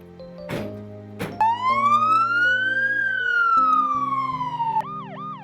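An ambulance siren races through Accra at night: a long rising-and-falling wail gives way to quick yelping cycles, heard alone and fairly prominent over faint road traffic.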